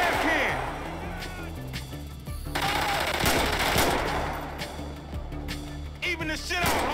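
Rapid automatic gunfire rattles almost continuously through a firefight in Grand Theft Auto V, with bursts and single shots layered over game music and shouted dialogue from characters.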